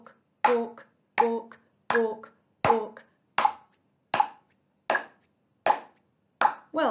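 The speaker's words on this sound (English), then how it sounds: "We're going to clap along with the pulse." Steady hand claps in a beginner brass lesson, nine crisp claps evenly spaced about 0.75 seconds apart, keeping a regular walking pulse, close and distinct with silence between.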